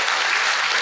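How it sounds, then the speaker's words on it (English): An audience of students claps for a fellow student at a placement orientation session, a brief, dense burst of applause filling the room at close range. "Round of applause for him."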